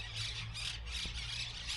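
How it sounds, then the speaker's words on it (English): Several parrots squawk from a single tree by a river campground in Azul, Argentina, a faint, continuous chorus of harsh cries heard from a distance. "Parrots"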